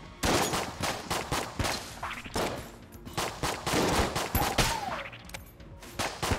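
A gun in the Enter the Gungeon video game fires in rapid, loud bursts of pops and blasts, with short pauses between volleys and a brief whooshing game effect partway through.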